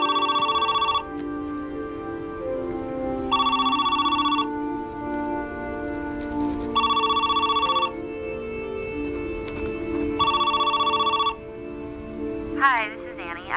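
A telephone rings in four long, evenly spaced bursts of bright electronic trilling over a low background hum, ending with a brief warbling tone.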